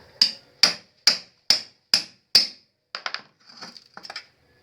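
Sharp, close cutting strikes on the winding coils of an electric motor, six evenly spaced loud snaps followed by softer, quicker clipping sounds as the coils are cut one by one.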